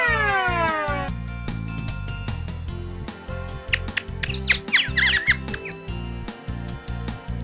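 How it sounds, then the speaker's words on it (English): Bird chirps from a kids' animal listening game, a few quick high twitters near the middle, set over bouncy cartoon music that opens with a rising siren-like swoop. "Sounds like a bird. Yes, a bird."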